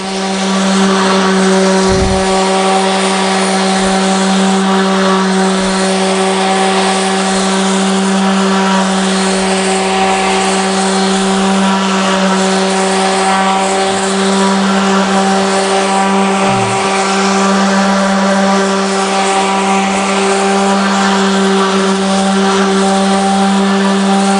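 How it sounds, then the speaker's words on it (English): Power sander working a plaque with a coarser grit, a loud steady high-pitched motor whine holding constant tones throughout, close and without a break. "I want to go ahead and hit this front side with a stronger grit."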